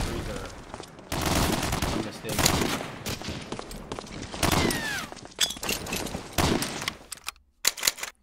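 Medal of Honor: Allied Assault online match with heavy, dense gunfire: overlapping rifle and machine-gun bursts crackle almost nonstop, with brief gaps and sharp single shots near the end.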